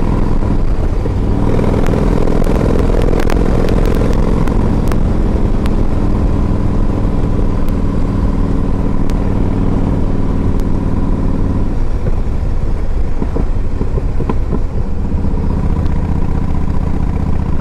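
A 2012 Yamaha Road Star 1700 motorcycle engine runs steadily close by, giving a low, continuous rumbling idle with a faint mechanical clatter and no one talking.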